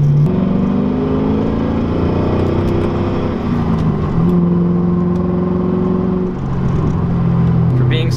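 A heavy Pontiac GTO 6.0 American muscle car cruises along winding back roads, its engine droning and shifting pitch as it accelerates and eases off, with steady road and cabin rumble throughout.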